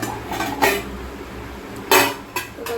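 A spoon scrapes and clinks against a pot while stirring soybean veg biryani rice. It comes as a few separate close scrapes, the loudest near the start and again toward the end, with no talking.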